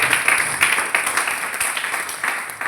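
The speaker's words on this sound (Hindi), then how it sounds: "तो एक शानदार ताली बजाएं" Audience applause at an AWPL business training session, a dense, steady wash of many hands clapping together for nearly three seconds, fairly loud and even, with no talk.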